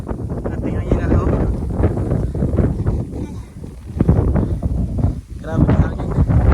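Strong wind blasts across the summit of Mt Apo, roaring and buffeting the microphone in uneven gusts while people talk close by throughout.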